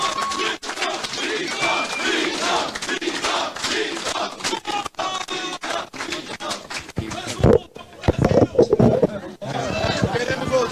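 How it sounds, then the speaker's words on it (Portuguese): Crowd at a political rally in Hamamatsu, Japan, cheering, chanting and applauding loudly, with raised voices and shouts mixed into the noisy babble throughout. "Vamos dar uma salva de palmas para o Mito."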